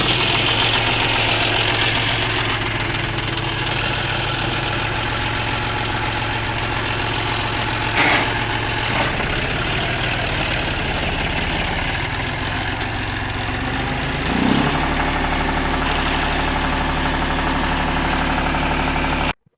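A John Deere tractor engine idles steadily after a power steering pump repair, a loud continuous low rumble with a couple of brief clanks partway through.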